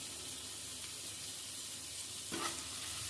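Chopped coriander being stirred into baingan bharta (mashed eggplant) sizzling in a pan over a gas flame, a steady soft frying hiss throughout with a brief louder stir scrape near the end.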